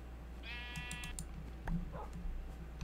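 A Minecraft sheep gives one wavering bleat, fairly clear against a steady low hum, followed by a few faint clicks and soft thuds.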